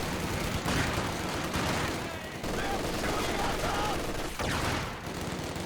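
Machine gun bursts and scattered rifle fire from the video game Company of Heroes 2, a dense rattling fusillade over battlefield noise, with a commentator talking over it.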